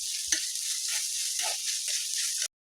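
Onions sizzling in hot oil with ginger, green chili and garlic while being stirred for a prawn masala curry, a steady close frying hiss with soft spoon scrapes, cutting off abruptly near the end.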